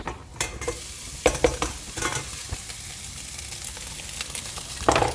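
Rice sautéing in a pan for seafood risotto, a soft continuous sizzle broken by sharp scraping stirs, with a clatter at the end.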